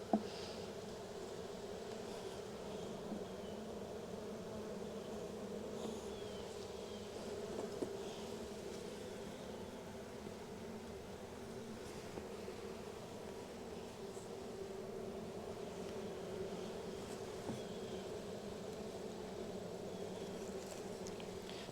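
Honeybees buzz steadily around an open hive being broken down for winter, a continuous, moderately faint droning hum with no break across the whole stretch.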